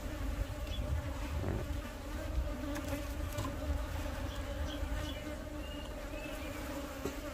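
A dense, steady hum of a large honeybee colony buzzing fills the air, close and continuous, with scattered individual buzzes passing through.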